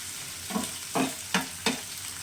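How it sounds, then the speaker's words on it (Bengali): Chopped onion and green chillies fry in a pan for chilli chicken. A soft, steady sizzle runs underneath while a utensil scrapes and stirs four times at a quick, uneven pace. It is quiet and close, with no talk. "কাঁচা লঙ্কা কুচি সব একসঙ্গে দিয়ে একটু ভাজা ভাজা করবো।"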